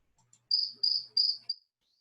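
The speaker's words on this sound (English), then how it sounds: "the cricket noise. So that's the noise that he made for her." A cricket chirps four times in quick succession, shrill and clear against near silence.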